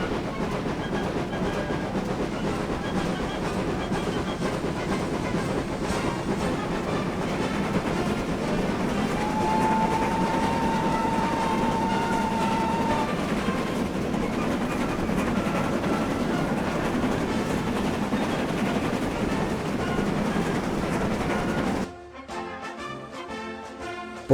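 GWR 7800 Manor class steam locomotive running in Train Sim, a steady loud rumble and rhythmic chuffing with clickety-clack of wheels on rail, a brief whistle-like tone midway, then an abrupt drop near the end.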